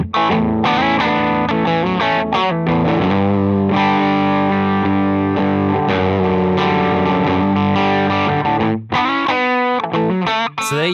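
A guitar played through a Spaceman Sputnik III limited edition fuzz pedal, thick distorted sustained chords and melodic lines ringing loud and close with a brief gap near the end, no talking.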